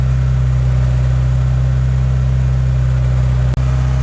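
A Honda Civic EK engine on a cold start, idling high and steady with a loud, constant drone close by, with one brief dropout near the end.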